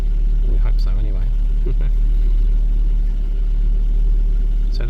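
Steady low idle of a 2009 Ford Focus engine warming up after a cold morning start, constant and close, with someone speaking over it.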